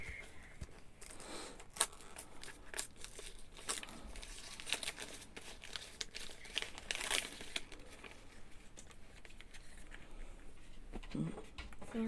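Packaging for the second advent calendar window is unwrapped with continuous close crinkling, rustling and soft tearing of paper and plastic, plus occasional handling taps.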